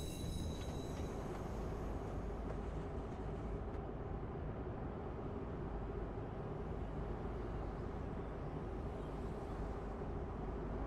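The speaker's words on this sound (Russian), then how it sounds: "Поезд уходит." A moving train in the Watch Dogs video game, heard as a constant, loud rumble of wheels on rails with a faint high squeal early on, droning evenly from start to finish.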